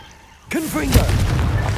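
A Confringo spell explosion in Hogwarts Legacy: after a quiet start, a sudden burst with swooping magical tones, then a loud sustained fiery roar that lingers to the end.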